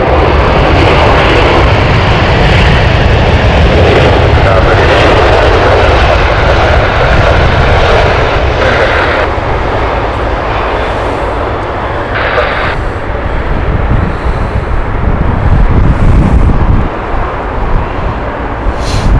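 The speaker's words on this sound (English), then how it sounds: "A320 from British Airways." A British Airways Airbus A320 airliner roars steadily and loudly at Heathrow Airport, its broad engine rumble sustained throughout with slight swells and fades.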